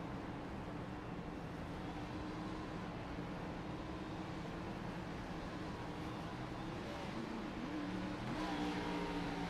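Gen 6 race cars roar together as they accelerate at a restart in a racing video game, a dense, steady engine drone that swells slightly near the end, with no talk.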